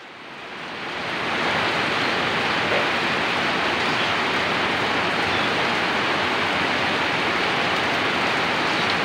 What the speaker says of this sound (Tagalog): Ang lakas ng ulan guys, ayan guys, oh, napakalakas talaga.